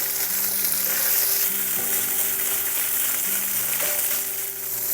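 Crumbled tofu frying in a pan for fried rice, a loud, steady sizzle close up with stirring scrapes, and a faint tonal hum running underneath.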